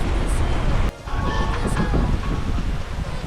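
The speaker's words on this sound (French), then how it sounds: "c'est violent, c'est très violent le vent là" Strong gusts roar steadily across a gravel-pit lake during a carp-fishing trip, blasting the microphone with loud, continuous rumbling noise that dips briefly near the start before surging back.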